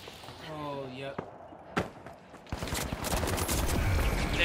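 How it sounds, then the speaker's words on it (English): Gunfire in the video game The Finals: a few sharp shots early, then a dense stretch of rapid, close bursts and impacts building toward the end, with game tones and effects beneath. "Damn, I got shot from both sides."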